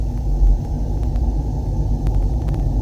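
Boeing 737-800 cockpit simulator engines spooling up toward takeoff power, a steady low rumble with faint clicks on top and no voices.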